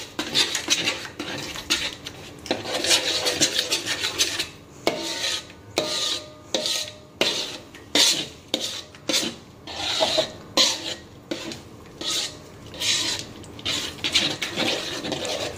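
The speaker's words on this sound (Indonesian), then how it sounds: "Jadi yang di pinggir-pinggir ini harus terus dikorek" Metal utensil repeatedly scraping the edges of chaikue dough cooking in a pan, rhythmic rasping strokes with short pauses between, steady and close over faint background hiss, no talk.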